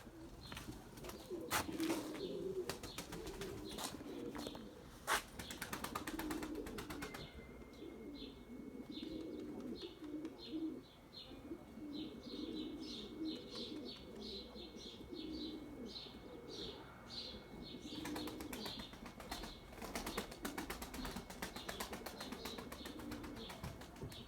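Pigeons coo in a loft, soft repeated throaty calls with chirps and occasional wing flaps, steady and fairly close, with no talk.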